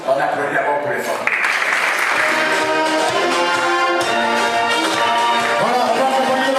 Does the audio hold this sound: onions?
no